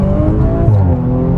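An Audi RS5 Sportback (2019) accelerates hard, its engine revving loud and close with a rising, held-gear note that stays dense and steady throughout, no talk over it.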